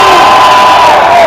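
A crowd at a conference roars and cheers loudly, with a high whoop rising over the dense shouting in one short, close burst.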